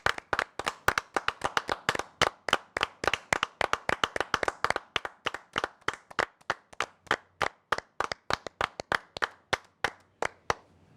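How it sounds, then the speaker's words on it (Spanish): Studio audience applause on a Spanish-language TV show: brisk, crisp clapping that starts dense and fast, then thins into slower, evenly spaced claps before fading. "vamos a darle un aplauso tanto a Jimena como a Pepe para empezar el programa"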